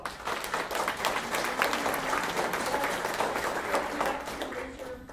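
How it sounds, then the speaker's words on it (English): A keynote audience at Zoholics 2012 applauds the event helpers, with steady clapping from many hands filling the room and a faint voice underneath as it tapers at the end. "I want to give a round of applause to him"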